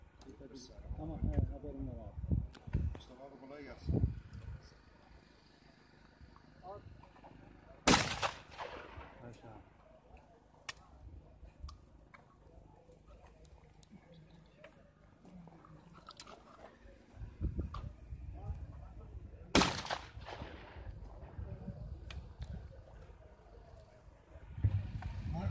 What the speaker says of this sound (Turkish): Amanosların eteğinde gerçekleştirilen ve bayanların da ilgi gösterdiği atış müsabakaları